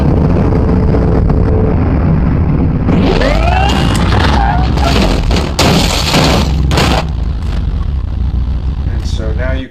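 A car accident while passing two cars on the road: steady road and engine rumble, then a loud crash with harsh clattering and scraping impacts that fade into lingering noise.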